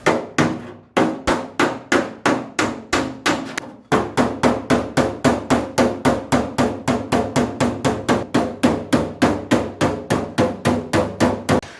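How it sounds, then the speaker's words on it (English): Rapid, steady hammer blows ring out on a vintage car's metal body panel, dozens of sharp strikes in an even rhythm with a brief pause early on, from a small hammer set knocking out dents. "We got our cute little hammer set here. I'm gonna start working these"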